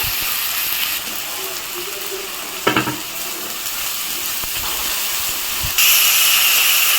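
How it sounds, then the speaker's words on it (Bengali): Spice paste fries in hot oil for a stuffed pointed gourd dolma with fish filling, a steady close broadband sizzle with brief scraping stirs, one sharper clatter midway and a louder burst of hiss near the end. "নেড়ে চেড়ে মশলাটা কষিয়ে নিচ্ছি"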